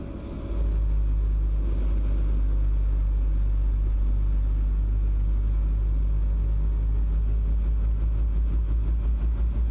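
A chugging engine rumble from a vehicle in a driving game, a loud, continuous deep drone that starts abruptly and holds steady, with faint higher clicks above it.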